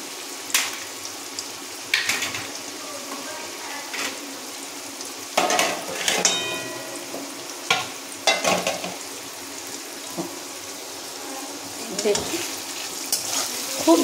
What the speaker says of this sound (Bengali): এই তেলটায় আমি এবারে পনিরটাকে কিছুক্ষণ হতে দেব।